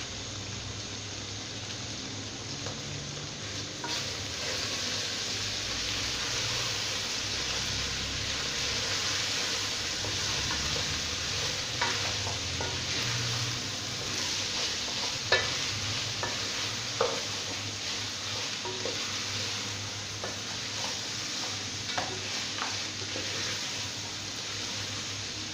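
Pork frying in a pan sizzles steadily throughout while being stirred, with scattered scraping and clinking of the utensil against the pan close by and no talking.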